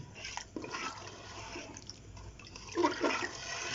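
About 1.5 litres of water splashes and gurgles into a cooking pot of mutton shorba in uneven bursts, building to a louder rushing pour near the end.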